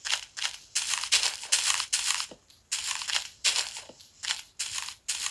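A tree being chopped down in a video game, heard as a rapid series of sharp crunching, cracking hits in bursts, close and loud with short gaps between them and no talking.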